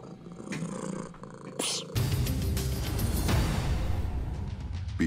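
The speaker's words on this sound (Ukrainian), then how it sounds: "почула зловісне мурчання" An ominous cat purr from a mystical supernatural scene, a deep continuous rumbling drone that swells loudly after a short rustle and carries on under a dense, dark, noisy backdrop.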